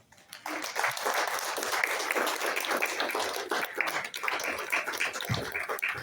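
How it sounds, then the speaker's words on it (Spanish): A church congregation applauds in a steady, fairly loud wash of clapping that starts after a brief pause and runs throughout, with scattered sharper claps on top. "Pueden darle un aplauso al Señor Jesús."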